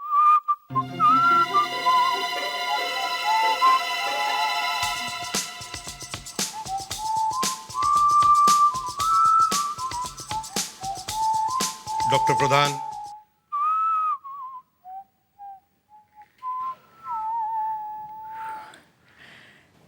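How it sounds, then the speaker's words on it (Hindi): A melodic whistle carries a clear tune, set against a background music track in a TV crime drama scene. Brief talk comes in near the end, and the whistling then continues on its own at a softer level. "मैंने नहीं बजाई सर, मुझे तो सीटी बजाना आता ही नहीं है।"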